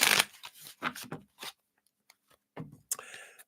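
Quick riffling shuffles of tarot cards in short bursts, crisp and close, with brief pauses between and a longer papery flutter near the end.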